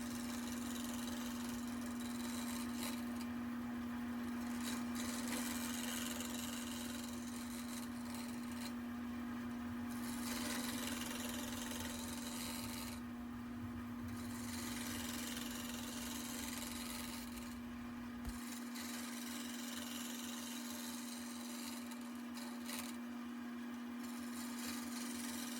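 Wood lathe turning a table leg, a steady continuous motor hum with a strong tonal drone and a rough cutting texture that eases off near the end, close and unbroken with no talk.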